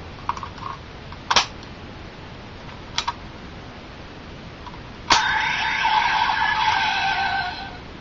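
Power Rangers Dino Thunder Morpher toy gives a few sharp electronic clicks and zaps, then a louder buzzing, shimmering effect that sustains for about three seconds, close and alone.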